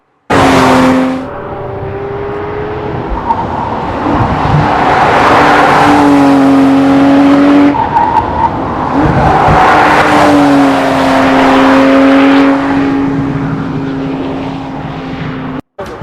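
A Porsche 911 GT3 RS exhaust roars loudly and close, rising in two long revving swells that climb in pitch and then ease off, with no voices over it.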